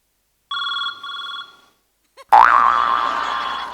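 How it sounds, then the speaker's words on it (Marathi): A mobile phone ringing with a bright electronic ringtone in two short bursts, then a louder, sustained warbling ring that carries on to the end, close and prominent. "तुमचा फोन वाजतोय"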